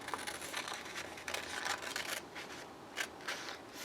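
Scissors snip and slide through paper card close by, giving a continuous rustling cut with a few sharper clips, heard alone without talk.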